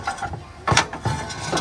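A car's exhaust front pipe on a Suzuki AZ-Wagon MJ21S is twisted and pulled backward out of place, giving a few short metallic scraping and clunking bursts, close by, with quiet pauses between them.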